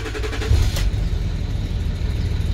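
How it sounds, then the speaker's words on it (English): A Land Rover Discovery 3 engine starts and settles into a steady low rumble close by, with a brief higher whine near the start. "Let's try the foot on the brake and the engine on."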